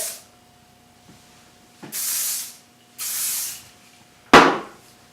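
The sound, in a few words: hairspray being sprayed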